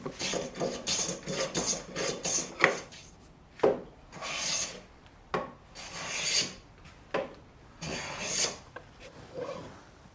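A hand plane cutting along the wooden stage of a shave horse, each stroke a close, loud shaving rasp, separated by short pauses in an uneven rhythm.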